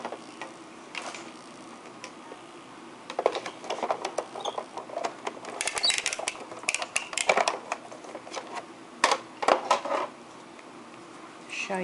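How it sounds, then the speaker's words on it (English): Scissors snip through sequin fabric for a bow hair accessory, making irregular close clicks and crisp rustling snips in uneven bursts, fairly quiet overall. "I'm gonna cut it again."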